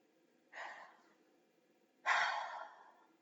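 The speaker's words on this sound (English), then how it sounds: "Take a deep breath." Two deep breaths drawn one after another, the second louder and longer than the first, each an airy inhale-exhale rush standing alone in quiet.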